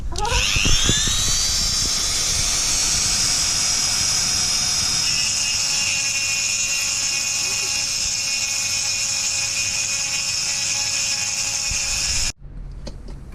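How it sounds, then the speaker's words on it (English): Dremel rotary tool fitted with a grinding bit, worked on a motorcycle exhaust part: a loud, steady high-pitched whine that spins up at the start, holds for about twelve seconds, then cuts off abruptly. "So here's my Dremel with a grinding bit, and let's see how we get on with this one."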